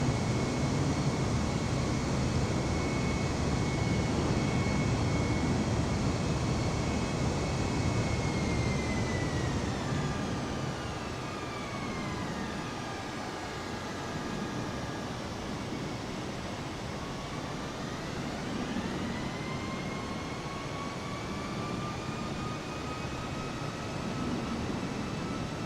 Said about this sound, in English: coming for a quick, sort of combat-ish landing